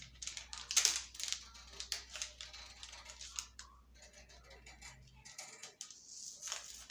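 Scissors cutting through a paper skirt pattern draft, a series of close, crisp snipping and rustling sounds at an uneven pace, with a steady low hum underneath.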